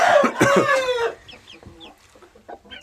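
Hens and a rooster cluck in a backyard coop holding chicks and adult fowl, a loud burst of squawking clucks at first, then softer scattered clucks from several birds nearby.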